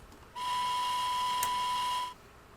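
A model LSWR M7 tank locomotive gives a single steady whistle blast of nearly two seconds, a clean sustained tone with hissy overtones, sounding alone and fairly close.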